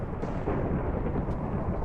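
In the Naruto ShinobiCraft Minecraft mod, an explosion spell sets off a deep, rolling boom that rumbles steadily for nearly two seconds without speech.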